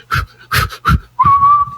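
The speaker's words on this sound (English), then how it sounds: "why are you breathing so hard that you whistle?" Three short breathy puffs, like hard panting, then a sustained high whistle carried on an exhaled breath with airy noise beneath it.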